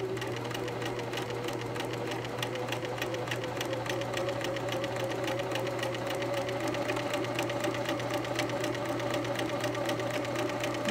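A sewing machine stitches fabric steadily along an inward curve, its needle mechanism whirring and ticking in a constant, close rhythm from start to finish.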